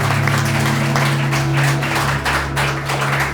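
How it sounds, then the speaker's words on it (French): Steady applause from an audience, continuous clapping with a low hum running underneath throughout. "Applaudissements pour Alexandre Burkhardt."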